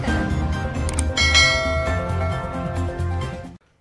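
A bright ringing bell chime over a loud musical jingle, sustained for a few seconds before cutting off abruptly.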